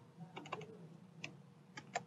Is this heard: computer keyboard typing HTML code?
yes